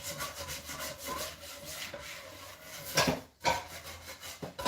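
A plastic IKEA scrubber works over a surface with water and dish soap, giving a steady close rasping rub that repeats in strokes and briefly stops before starting again.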